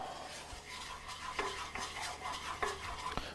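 Bananas cooking down and caramelizing in a pan, a soft, continuous low sizzle with a few sharp clicks and scrapes of a utensil stirring against the pan, no voices.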